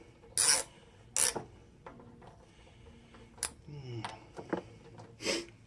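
Socket ratchet snugging down bolts on a trike engine during an upgrade: a few short, sharp rasping clicks in separate bursts with gaps between, fairly close and moderately loud, with some faint rubbing and handling noise in the pauses.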